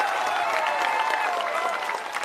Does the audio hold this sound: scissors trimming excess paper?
no